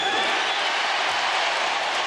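Basketball arena crowd at a 2000 playoff game, Bucks at Pacers, heckling Reggie Miller as he shoots free throws: a steady, dense roar of many voices, loud and continuous with no pauses.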